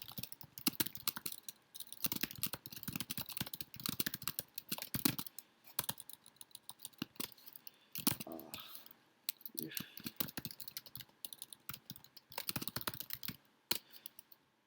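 Fast, uneven typing of code on a computer keyboard, crisp key clicks in quick bursts with short pauses, close and fairly quiet.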